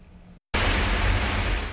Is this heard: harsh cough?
no